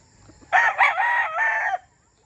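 A blue band Kelso gamecock stag being conditioned for a derby gives one short, close crow with a clucking break in the middle, loud against a quiet background.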